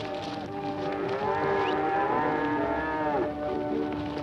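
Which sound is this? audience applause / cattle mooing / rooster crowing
cattle mooing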